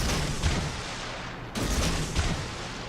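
Destroyer guns fire in World of Warships, a few heavy booming salvos in quick succession under a dense rumbling battle backdrop.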